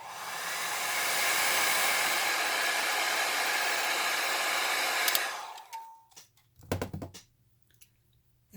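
A handheld dryer blows on freshly applied Posca paint pen artwork, a loud steady whoosh for about five seconds that cuts off, followed by a few soft clicks and handling knocks.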